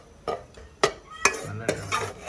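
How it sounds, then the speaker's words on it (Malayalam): Chili, cumin and fenugreek powders being stirred in a pan, with four or five distinct scraping strokes of a spoon against the metal over a faint sizzle, close and clear. "നല്ലതായിട്ട് ഇളക്കി കൊടുക്കണം."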